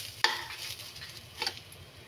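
Rice and moong dal fry in a pot for bhuna khichuri, with a faint low sizzle and two soft stirring scrapes, quiet and without voices.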